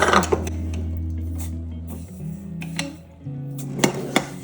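Clinks and scrapes of a utensil against a dish as baby food with couscous is stirred, with a low steady hum underneath and a few sharper taps.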